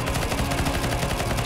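Rapid bursts of gunfire from a CS:GO zombie escape round aimed at a large knight boss, loud and dense, a steady stuttering stream of shots filling the whole moment.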